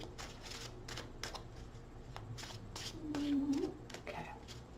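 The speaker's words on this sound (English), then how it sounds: "2 more shuffles." Cards are shuffled in a series of quick riffling bursts, crisp and close, with a short low hum partway through.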